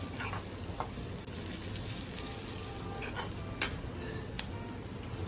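Ingredients for a Navratri fasting thali being stirred and mixed in a pan, with a steady low sizzle and occasional clicks and scrapes of a spoon against the pan, close and continuous.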